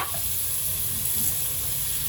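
Onion, tomato, green chili and curry leaves sauté in a pan for Kerala mutton curry, a brief, steady close sizzle with faint stirring scrapes underneath and no speech.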